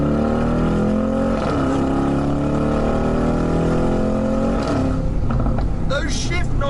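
A Mansory Mercedes-AMG G63 Philipp Plein Star Trooper pulls away hard, its loud engine droning and rising in pitch from inside the cabin, with audible gear changes breaking the climb twice.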